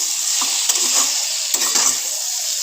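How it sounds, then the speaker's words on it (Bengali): Drumstick vegetable pieces being stirred with spices in a hot pan, a steady hiss of frying broken by several spatula scrapes in two short bursts, close and without voices. "সবজিটাকে সব মশলার সাথে ভালো করে মিশিয়ে নাড়াচাড়া করে নিচ্ছি"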